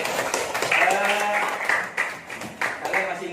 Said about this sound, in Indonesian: Tepuk tangan untuk Jumriana.